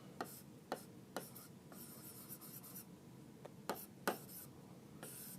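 Marker or chalk writing out a physics equation on a board, a run of scratchy, squeaky strokes with sharp taps as each symbol begins, quiet and close with pauses between bursts of writing.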